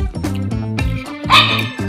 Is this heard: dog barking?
yes